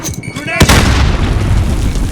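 A grenade detonates in a Call of Duty Modern Warfare team deathmatch: a brief voice is followed by one sudden, loud, close blast whose heavy rumble rolls on and slowly decays over the remaining seconds.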